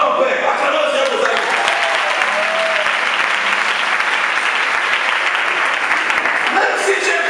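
A church congregation applauds at length, a dense, steady wash of clapping from many hands that holds at an even loudness throughout, with faint crowd voices mixed in.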